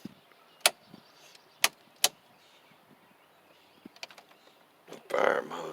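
Three sharp clicks from a key in the ignition of a 1995 Chevy Blazer street/strip truck that has sat parked since 2015, followed by a few lighter taps and a brief burst of broadband rustle near the end.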